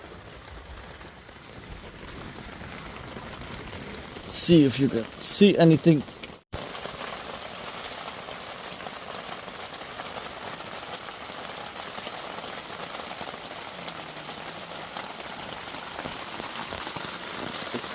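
Steady rain patters on a car tent at a night wild camp during a thunderstorm, a constant hiss throughout with someone speaking briefly over it and a couple of rustling bumps midway.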